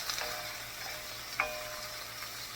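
Vegetables cooking down in a pan for red beans and cauliflower rice: a steady, fairly quiet sizzle and frying hiss, with a single sharp tick of a utensil against the pan partway through.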